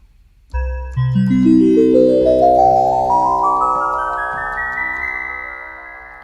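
An Infinitone synthesizer on its Cosmic Harp preset climbs a rising microtonal scale of sustained, harp-like tones in small, unusual pitch steps, each note ringing into the next, loud and alone.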